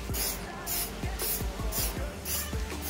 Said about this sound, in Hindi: और आपको सीधा स्प्रे कर देना है।